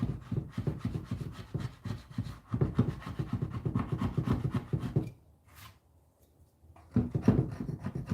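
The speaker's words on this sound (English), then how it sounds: "Now I gotta go in with the sander." A wooden dough bowl being sanded by hand: rhythmic, close rasping strokes that stop briefly near the end and then resume.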